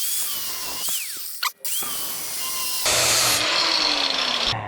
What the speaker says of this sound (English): looks like we're getting the grinder out. We're just gonna zap it right here to release this.